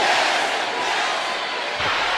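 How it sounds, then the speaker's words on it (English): A wrestling arena crowd roars in a steady, dense wash of cheering and shouting, loud and continuous, with a dull thud near the end. "And the crowd loves it."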